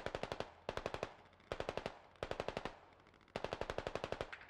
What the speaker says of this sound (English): We're taking fire from our direct east.